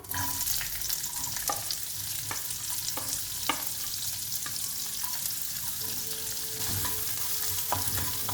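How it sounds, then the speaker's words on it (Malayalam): Sliced onions sauté in hot oil with cinnamon and bay leaf for a palak egg curry, a steady close sizzle running throughout with occasional sharp ticks and scrapes of stirring. "ഇതിലേക്ക് കട്ട് ചെയ്ത് വെച്ചേക്കുന്ന സവാള ഇട്ട് കൊടുക്കാം"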